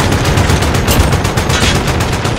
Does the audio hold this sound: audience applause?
no